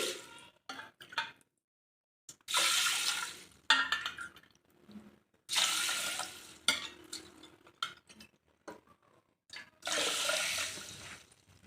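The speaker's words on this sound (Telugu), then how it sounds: "నాలుగు కప్పులు వాటర్ వేసుకోవాలి" Four cups of water poured into a pressure cooker holding one cup of horse gram, heard as three separate rushing pours of a few seconds each, close up, with small clinks and handling noises between them.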